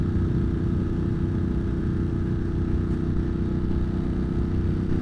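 A Triumph motorcycle at riding speed gives a steady, loud engine drone mixed with constant wind rumble, unbroken for the whole stretch with no talking.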